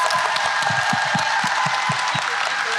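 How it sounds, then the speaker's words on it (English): Audience applause for a panel at a talk event, a steady wash of many hands clapping with no speech over it. "can we give a great round of applause for this"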